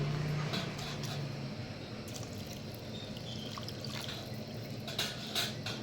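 A steady stream of water pours into a pot of mushroom biryani, a continuous rushing splash lasting the whole stretch at even loudness.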